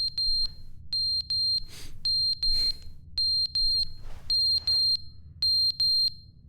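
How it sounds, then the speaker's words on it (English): In-game smoke alarm in The Stanley Parable, shrill high beeps repeating in steady groups of three over a low hum, with a couple of brief noisy bursts in between. "Smoke alarm's going off."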